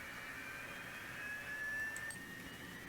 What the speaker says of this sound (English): Since your APU is starting up